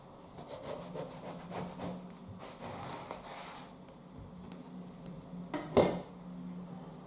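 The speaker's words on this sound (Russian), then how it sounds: "сначала разрезаем наши баклажаны вдоль, пополам" A knife slices an eggplant lengthwise in half, with soft rasping, sawing strokes against a board and a sharper knock near the end.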